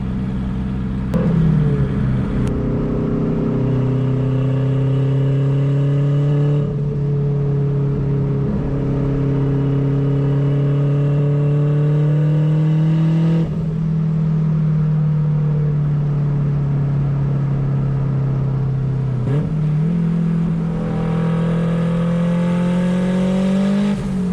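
A turbocharged Honda Civic Si with a hood exit makes repeated hard acceleration pulls, the engine tone climbing steadily through each gear before short breaks and shifts, loud and close with no voices.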